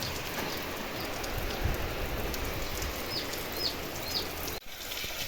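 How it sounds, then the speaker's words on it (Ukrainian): Steady rain pattering on surfaces, a dense hiss of drops throughout, with a few faint bird chirps in the distance. "Який дощик пустився."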